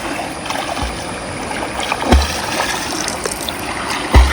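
River water flowing steadily at Periyar near Panamkuzhi, a loud continuous rushing wash with a few soft low thumps, close by and nearly free of talk.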